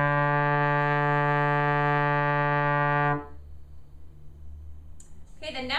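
A trombone holds a D in 4th position as one steady, rich brass tone for about three seconds, then stops, followed by quiet room noise and a brief high ringing near the end.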